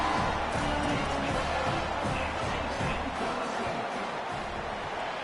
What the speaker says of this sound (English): And the home crowd here is unhinged